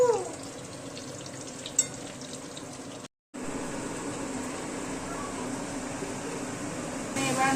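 Meat for biryani fries in hot oil, a soft continuous sizzle heard close by. There is a brief click and a short dropout partway through, and speech is faintly present.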